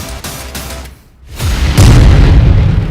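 A loud explosion from an Israeli strike in news footage, a heavy boom building after a brief lull into a sustained roaring rumble, close and powerful with no talk.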